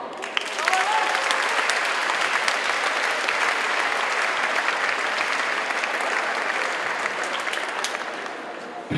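A school closing ceremony audience gives a full, steady round of applause, loud and continuous, with faint voices mixed underneath.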